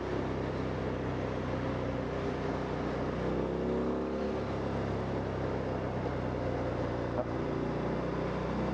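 A Harley-Davidson Fat Bob 114 motorcycle accelerates on a road, its engine droning loud and steady throughout, with a rising, shifting tone midway through.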